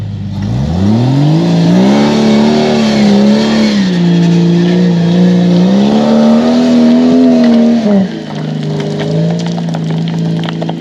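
A full-size rock crawler rig climbs over a big rock face and loose small rocks, its engine droning loud and close. The pitch rises and dips as the throttle changes for about eleven seconds.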